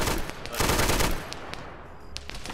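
Rapid machine-gun bursts and scattered shots ring out in a video-game battle, dense at first and then thinning to isolated cracks against a fainter background.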